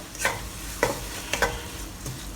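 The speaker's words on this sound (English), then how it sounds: "We need to fry this until it's dry." Thai olive fried rice frying in a pan, with soft steady sizzling and several distinct scrapes and tosses of a spatula spaced through the clip, no talking.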